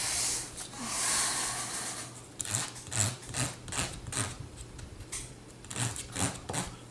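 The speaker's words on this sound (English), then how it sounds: "I'm going to have to trim off the CA glue on the edges with a little sandpaper" Fine 400-grit sandpaper rubs hardened CA glue off the edges of a handmade pen, producing short bursts of close, hissy scratching strokes in an uneven rhythm, with no voices.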